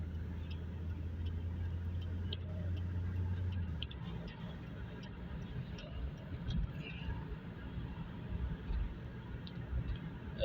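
A car cruises along a long road in Saudi Arabia at night, a low steady engine and tyre rumble heard from inside the cabin while someone talks over it.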